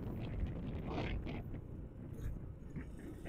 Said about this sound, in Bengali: বাতাস অনেক বেশি।